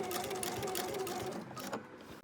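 A sewing machine stitches fabric binding onto a trim bin, a fast steady whirring run up close that slows and stops near the end.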